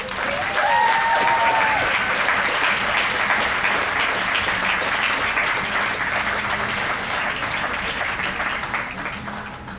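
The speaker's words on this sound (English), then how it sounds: "let's give a round of applause for the 2018 scholarship recipients" Loud, sustained applause from an audience at an awards ceremony honoring scholarship recipients, a dense wash of clapping that holds steady for several seconds before tapering slightly near the end.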